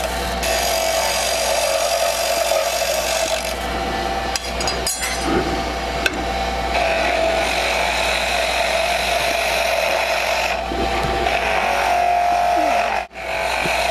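A skew chisel makes a planing cut on wood spinning on a lathe, a loud continuous bright shaving hiss over the motor's steady hum, with brief dips and a short pause near the end.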